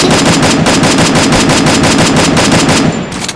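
Sustained close burst of rapid machine-gun fire in a video game, in a tight, even rhythm, loud throughout before cutting off and fading at the end.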